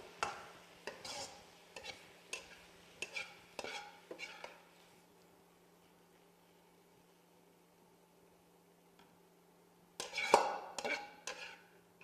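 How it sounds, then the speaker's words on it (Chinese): Chicken strips stir-fried over high heat in a wok, with bursts of metal clattering and scraping for the first five seconds, a quiet stretch, then a louder burst of rapid clanks near the end. "倒入鸡肉，急火快炒"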